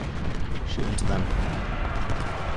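Union troops fire rifles and artillery in a Civil War strategy battle game, a dense loud rumble of overlapping gunshots and booms with a voice talking over it.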